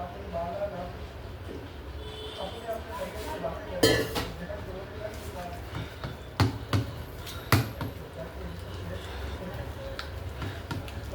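A spoon stirs pakora batter in a bowl, with soft scraping and a few sharp clinks against the bowl's side. A person talks over it throughout.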